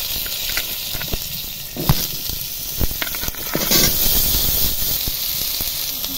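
Potatoes frying in hot oil in a kadai, a constant bright hiss and sizzle with scattered sharp crackles and pops, close and steady, with no talking.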